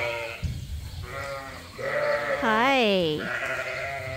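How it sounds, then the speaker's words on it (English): A cross lamb bleats loudly and close by with a wavering, quavering call, following a brief spoken greeting on a sheep farm; low background rumble throughout. "This one's one of our little cross lambs that we kept."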